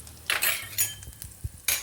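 Asafoetida is dropped into hot oil with mustard seeds and cumin on a low flame for a stuffed bitter gourd curry, giving a few short, close sizzling bursts with light spoon stirring and clinks against the pan.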